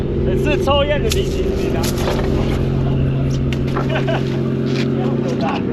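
A fishing boat's engine runs at sea, a steady loud mechanical drone throughout, with people talking over it.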